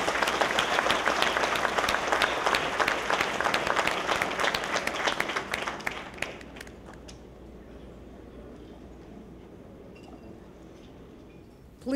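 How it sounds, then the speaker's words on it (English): A hall audience at a public safety valor awards ceremony bursts into dense, sustained applause for about six seconds, then the clapping thins and fades into quiet room tone. "Let's give them another round of applause, everyone."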